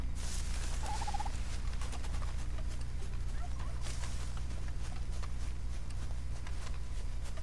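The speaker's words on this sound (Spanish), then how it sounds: "Un pavo." A turkey in Red Dead Redemption 2 gives a short, fairly faint gobble over a constant low ambient hum and crackling outdoor background, with no talking.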